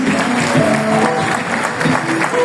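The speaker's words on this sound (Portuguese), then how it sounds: "eu gostaria que você aplaudisse a Deus pela vida dela" A congregation at a theology course graduation applauds, a short, busy patch of clapping mixed with voices and tonal sounds, close and loud.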